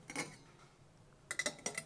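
Steel MSR Alpine 2 camping pot set handled, with a 2-litre pot and lid and a 1.5-litre pot: a light clink near the start, then a quick cluster of four or five metallic knocks and clinks near the end, close up with no talk.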